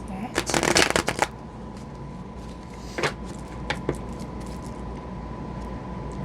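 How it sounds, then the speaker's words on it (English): Tarot cards are shuffled in a quick burst of rapid riffling crackles near the start, followed by a few isolated card snaps and taps, close and crisp over a steady low hum. "Let's give this a couple shuffles."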